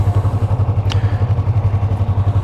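A stock 2020 Yamaha YZF-R3 motorcycle engine runs steadily close by, a low, even throbbing pulse with a faint clatter throughout.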